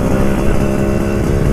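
A Vespa-style motor scooter fitted with a newly designed custom exhaust roars loud and close while being ridden, a steady, dense, rumbling engine drone with no break throughout.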